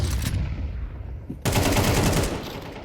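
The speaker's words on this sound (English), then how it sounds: "Huge headshot by Flying Weasel." Rapid gunfire from a Counter-Strike match in a CSC Season 20 esports game: loud, dense bursts of automatic shots, a brief lull, then a sustained volley to the end.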